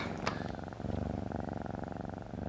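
Steady, close cat purr running unbroken for a couple of seconds, a soft rhythmic rumble with no voices over it.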